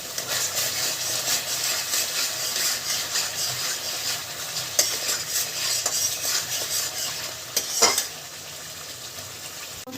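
Spices for a jackfruit and prawn curry fry in a hot pan with a steady sizzle as a spoon scrapes and stirs against the metal, with occasional sharper clinks.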